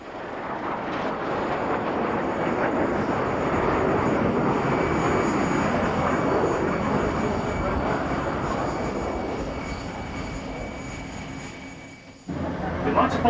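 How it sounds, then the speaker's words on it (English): Red Arrows acrobatic display team jets flying past at an air display in 1999: a loud, swelling jet roar that builds, holds, then fades before cutting off abruptly near the end. "We'd like to follow those aircraft away to our left."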